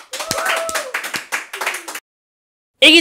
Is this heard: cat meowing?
no